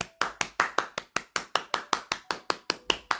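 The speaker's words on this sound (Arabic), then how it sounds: "حبيت نصفق لك" A single person claps their hands in a steady, even rhythm of about fifteen crisp, close, loud claps with no voices over them.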